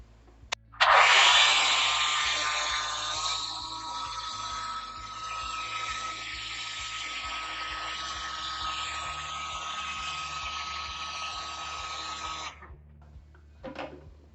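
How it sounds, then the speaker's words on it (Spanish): A blender whirs loudly and steadily for about twelve seconds, grinding nuts and milk finely at speed 3, before cutting off abruptly. "la vamos a agregar a la licuadora y la vamos a moler muy finita"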